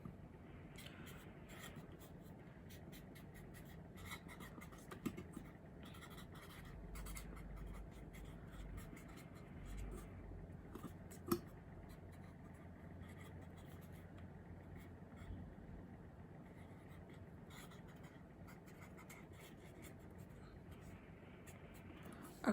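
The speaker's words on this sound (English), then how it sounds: "So I'm gonna write that down." A pen scratches steadily across paper in a continuous soft writing sound, close and quiet, with faint room noise under it and no speech.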